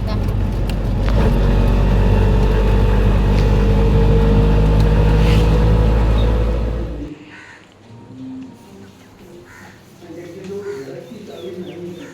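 Loud auto-rickshaw engine rumbling steadily while riding through a Konkan village for about seven seconds, then dropping away, leaving quieter outdoor sound with birds cooing nearby.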